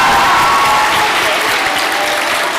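A debate audience applauds the speakers, steady dense clapping filling the whole stretch at close range without pause.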